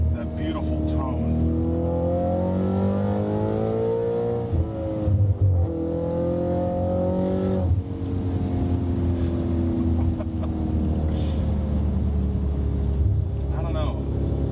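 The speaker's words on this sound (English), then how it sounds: "That's a hard engine sound to beat." An Audi quattro engine heard from inside the cabin with the windows rolled up: a deep, continuous tonal drone whose pitch swells and dips as the revs change, steady and close throughout.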